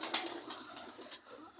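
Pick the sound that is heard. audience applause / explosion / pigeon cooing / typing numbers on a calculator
pigeon cooing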